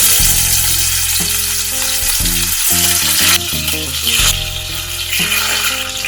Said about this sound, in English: You need to deep fry the fishes, that is they should be brown on both sides.